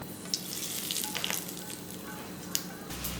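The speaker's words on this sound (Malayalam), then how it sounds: "ഇനി നമുക്കിത് വറുത്തിടാം." Ground chutney paste frying in a pan for a breakfast dish, a steady close crackling sizzle with a few sharp spatters and stirring clicks, no voices.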